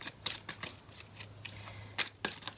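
A tarot card is laid down and covered, giving a few soft, close papery slaps and slides at a quiet level with short pauses between them.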